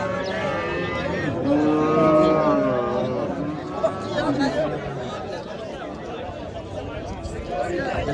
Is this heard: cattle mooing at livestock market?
yes